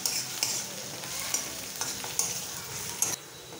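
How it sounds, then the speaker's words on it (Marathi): Onion, peanuts and dal sautéing in a pan for kanda poha, a steady soft sizzle with periodic scraping strokes of a spatula stirring, close and without talk. "इथे तुम्ही पाहू शकता आपलं डाळ व शेंगदाणे पण छान असे परतले गेलेले आहेत आणि आपला कांदा पण छान असा परतला गेलेला आहे"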